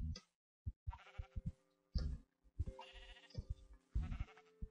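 Sheep bleating in a video game, repeated short bleats with clicks and game sounds between them, fairly quiet and close.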